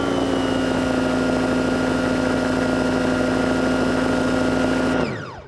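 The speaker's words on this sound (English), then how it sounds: "demonstrate the sound of the pressure washer" An AVA Easy P57 pressure washer runs loudly and steadily with a droning motor hum and pump whine, then winds down and cuts off at the end.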